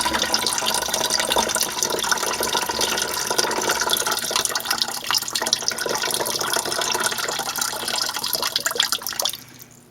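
Salt water solution poured off from a tub while stripping silver plate, a continuous splashing, trickling pour heard close and alone, ending abruptly near the close.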